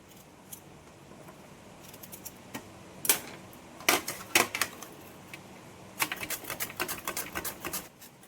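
Knife cuts through a ridge gourd from a backyard vine on a kitchen board, a run of crisp slicing strokes, sparse at first and then a quick cluster of close cuts near the end.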